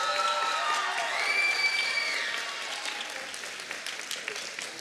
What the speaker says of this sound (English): Give these ninth graders a round of applause,